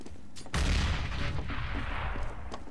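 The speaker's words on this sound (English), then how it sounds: "Who threw that frag?" A frag grenade blast and rattling gunfire in Counter-Strike: Global Offensive, a heavy boom erupting and rolling on with dense, close shots and no talk over it.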